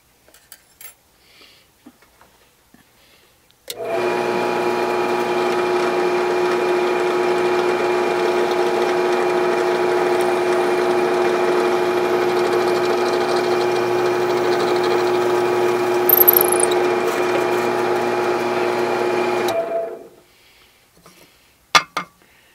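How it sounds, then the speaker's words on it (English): A steel sliding block from a height gauge is drilled with a 1/8 inch bit, giving a steady, loud mechanical whine with strong tonal hum for about sixteen seconds, starting and stopping abruptly against near silence. "I'll drill a 1/8 inch hole"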